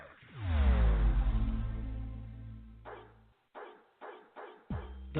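A dog barking in a radio advertisement for a dog and cat grooming salon: a loud tonal, whining bark-like sound fills the first three seconds, followed by a few short separate bursts.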